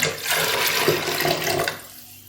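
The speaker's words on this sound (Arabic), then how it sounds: "بعد درت الماء القياس ديالي" Water pours in a steady gushing stream into a cooking pot of Moroccan harira with chickpeas, running for nearly two seconds before cutting off into quiet.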